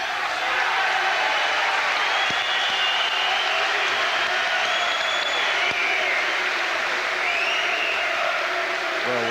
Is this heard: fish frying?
no